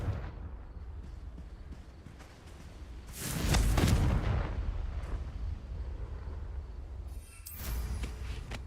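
A Confringo fire spell bursts in Hogwarts Legacy, a loud booming explosion with a broad roar rising about three seconds in and lasting roughly a second, over steady game ambience, followed later by a second, sharper burst.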